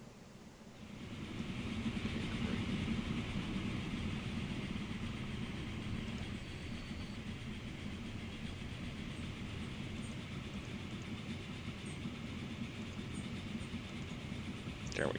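A train rolls steadily along rails in the game Transport Fever, a continuous rumbling hum with faint clatter that rises in the first seconds and holds at a constant level, with no talking.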